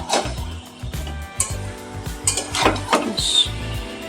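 A spatula scrapes and knocks rhythmically against a pan as mutton keema with jackfruit and potato is sautéed, with repeated close strokes over a soft frying hiss.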